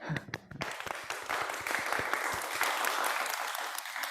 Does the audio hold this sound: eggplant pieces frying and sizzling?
no